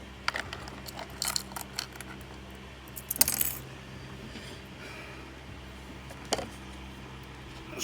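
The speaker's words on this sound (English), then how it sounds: "I'm just going to put a little clip on here" A small metal clip fastened onto buckling watercolor paper, giving a few sharp metallic clicks and taps, close and fairly quiet against a faint steady background hum.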